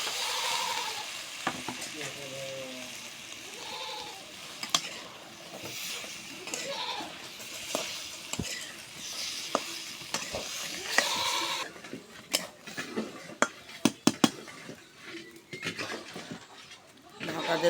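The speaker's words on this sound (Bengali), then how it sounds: "এখানে আর একটু তেল দিব, দিয়ে পটল আলুটা দিয়ে দিই" Pointed gourd and potatoes frying in oil in a pan after fish, a steady sizzle with intermittent spatula scrapes and clatters, someone talking over it early on, and busier clattering later.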